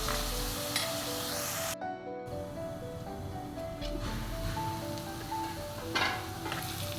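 Onions fry under a lid in a pan, giving a steady close sizzle and crackle that runs the whole time, briefly dipping once, with no talking.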